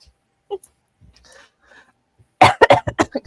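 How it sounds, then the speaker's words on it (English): A string of harsh coughs, five or six in quick succession, bursts out loud and close after a few seconds of near quiet with faint low murmurs. "Sorry for coughing in your ear."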